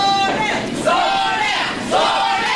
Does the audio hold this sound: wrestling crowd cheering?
yes